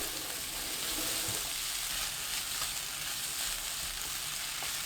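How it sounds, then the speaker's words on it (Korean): Fish cake and minced garlic stir-frying in oil over high heat give a steady, loud, hissing sizzle with faint scraping of the stirring throughout. "어묵, 다진 마늘 1큰술 넣고 센 불로 1분 볶아주세요."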